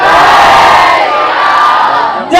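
A large crowd of children at a school annual function chanting Jai Shri Ram, one loud unified shout that rings out and fades over about two seconds.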